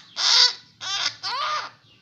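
A kaok kaok bird gives three loud, close harsh calls in quick succession, each a raspy squawk with brief pauses between, against a quiet background.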